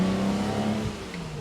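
A 1961 Ferrari 250 GT PF Cabriolet Series II drives along, its engine a steady close hum heard from the cabin, with pitch dropping as it shifts gears partway through; no voices.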